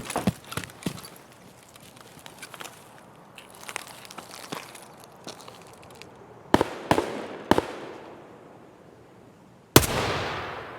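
Distant gunshots echo in Escape from Tarkov, scattered sharp cracks at first, then a few louder reports close together, ending with one heavy shot and a long fading rolling tail.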